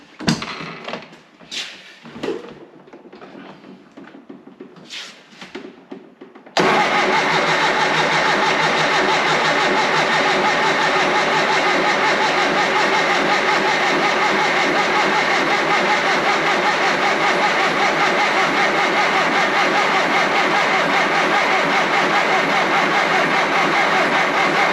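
A classic carbureted car, hooked to a jump pack, is cranked after a few clicks and handling noises. The engine turns over in a long, loud, continuous churn close by without catching.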